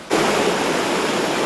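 A once-small creek runs high after heavy rain, its flooded flow a loud, dense, unbroken roar that starts abruptly and continues steadily.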